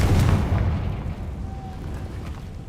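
A Confringo fire spell explodes in the video game Hogwarts Legacy, a loud booming burst at the start that rumbles and fades over a couple of seconds.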